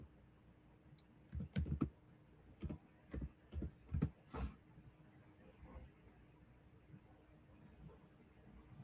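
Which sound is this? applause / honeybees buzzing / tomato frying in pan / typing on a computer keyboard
typing on a computer keyboard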